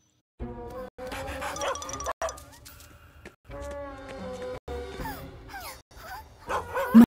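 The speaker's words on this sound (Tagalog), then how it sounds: "Isang aso na serbisyo!" A cartoon police service dog yips and barks in several short, choppy bursts, close and lively, with brief pauses between them.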